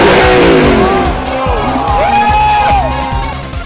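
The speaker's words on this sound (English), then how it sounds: "one of the most important experiences of a supercar is its sound" Loud roaring supercar engines rev and rise in pitch as they pass close by at a motor show, with a steady low mechanical pulse underneath.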